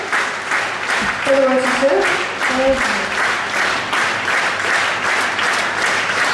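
Audience applause at the Koncert Nadziei 2014 finale fills the hall as steady, dense clapping throughout, with a voice speaking briefly over it and a few sung or tonal notes in the middle.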